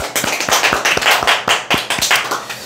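A seminar audience at a telemarketing sales coaching lecture claps in unison, loud, regular claps about four per second in a brisk rhythm, close and clear.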